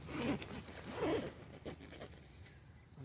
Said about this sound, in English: Make sure that they're not getting grabbed in by the zipper. So go slow.